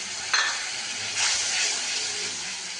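Onions dropped into a spice mixture frying in a pan: a sharp clatter as they land, then a swelling, steady sizzle and hiss, close and continuous, with no voices.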